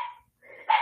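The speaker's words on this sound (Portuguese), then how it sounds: "esta minha cachorra late muito" A dog lets out two quick barks, sharp and close, separated by a short silence, with the second bark louder than the first.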